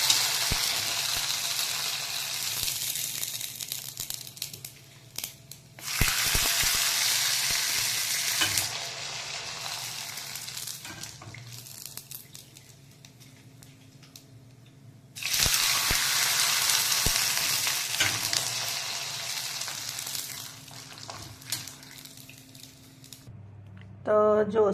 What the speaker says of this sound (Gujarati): હવે હું એને તરીને પણ તમને બતાવું. ચલો, તો તેલ થઈ ગયું છે